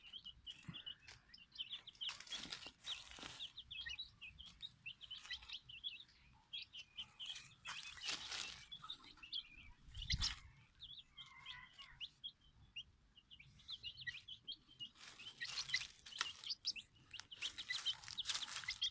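Silkie and Sebright chickens cluck and chirp softly nearby, with scattered short calls and peeps repeating throughout over a quiet background.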